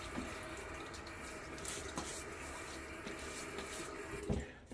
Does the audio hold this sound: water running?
yes